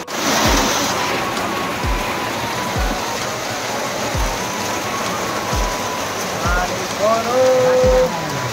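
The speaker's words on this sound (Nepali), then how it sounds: "पानी पर्यो" Rain falling outdoors at a market area, a steady broadband wash with repeated low thumps and some faint background tones toward the end.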